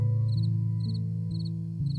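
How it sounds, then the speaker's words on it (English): Crickets chirp at night in a steady pulsing rhythm, the high trills repeating at even intervals over a low continuous hum, soft and close throughout. "The crickets got louder"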